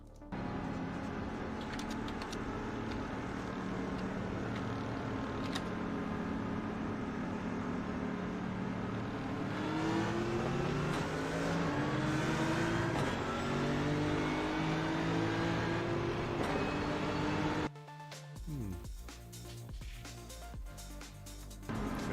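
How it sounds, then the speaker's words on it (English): A steady, loud racing video game car engine roar builds and climbs in pitch through rising gear changes, then cuts abruptly before a quieter rumbling tail. "at least we can hear the note of the engine"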